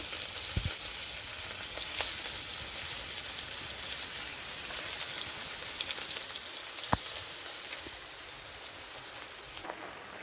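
Salted fish sizzles steadily in a pan of hot oil, a continuous moderate frying hiss with a few sharp pops, while rain patters in the background.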